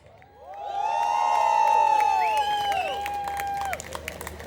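Sangeet audience cheering in a loud, sustained wash of crowd noise with a sung or whooping voice gliding over it, swelling in the first second and holding steady before easing toward the end.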